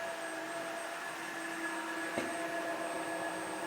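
Steady whine of a Dreame H14 Pro wet-dry vacuum cleaner running continuously while cleaning a floor with hair, with constant tonal hum and a brief click partway through, close and alone.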